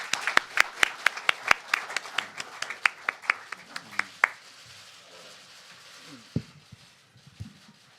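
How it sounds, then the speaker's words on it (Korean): Scattered hand claps from an audience at a press forum with Saenuri Party leader Kim Moo-sung, loud and sharp at first and then thinning out into a few faint late claps. "박수로 맞아주시기 바랍니다."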